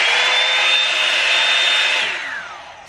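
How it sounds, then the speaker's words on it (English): A Revlon One Step hair dryer blows with a loud, steady whooshing roar and a high whine, then powers down, its pitch sliding lower as it spins to a stop. "Sound wise, it's not any louder than a normal hairdryer."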